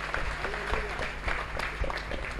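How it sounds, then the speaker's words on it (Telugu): A church congregation claps at a sermon, scattered and uneven hand claps in a hall with a faint murmur of voices underneath. "చప్పట్లు కొట్టండి."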